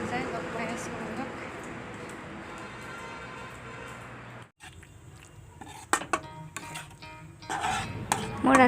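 Pumpkin is fried in a pan for breakfast. Metal utensils scrape and clink against the pan in irregular bursts, and soft sizzling sits beneath them. The sounds are close by, and someone talks throughout.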